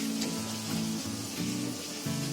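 Spiced masala for a green paneer curry sizzles and fries in a pan over a medium gas flame, a steady soft crackle with low rhythmic stirring pulses throughout.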